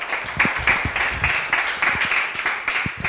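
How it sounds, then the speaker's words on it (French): Scattered audience clapping at a university structured-debate championship, a thin, uneven patter of hands with distinct individual claps rather than a full ovation, moderately close and steady. "que je vous demande d'applaudir"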